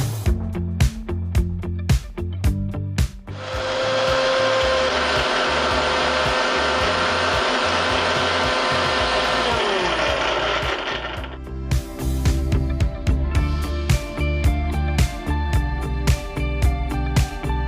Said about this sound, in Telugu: నెక్స్ట్ సో ఫస్ట్ మనం ఏంటి అంటే మిక్సీ పట్టేద్దాం ఆరెంజెస్ని.